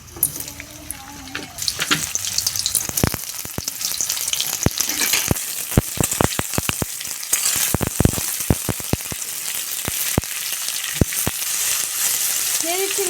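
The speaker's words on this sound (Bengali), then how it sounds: "এবার আমি লাউগুলো ভেজে নেব।" Sliced bottle gourd sizzles and crackles as it fries in a hot wok with turmeric, a steady close frying hiss punctuated by sharp pops and stirring clatter, with a brief running-water sound at the start.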